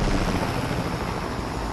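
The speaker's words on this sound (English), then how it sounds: "if you hear a helicopter" A helicopter in the video game Fortnite passes overhead with a steady, loud whirring drone that holds even throughout, with no talking over it.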